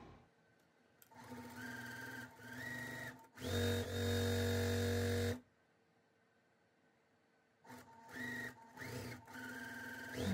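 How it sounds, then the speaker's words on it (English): A sewing machine stitches a quilt block, joining a strip and rectangle to the block's top in short runs; a loud steady burst of stitching sits between quieter intermittent runs and pauses, close and clear. "I'm sewing the J strip with the E rectangle onto the top of the block"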